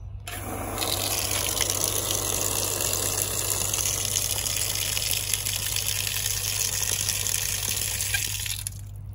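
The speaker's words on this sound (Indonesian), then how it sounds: "Keran depan rumah bocor." Steady running water gushes continuously from a leaking outdoor tap, a constant broadband hiss with a low hum underneath.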